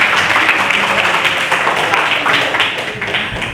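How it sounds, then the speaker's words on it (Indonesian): A classroom of students claps together, a loud, close, ragged patter of many hands that gradually thins out toward the end. "tepuk tangan untuk kita semuanya"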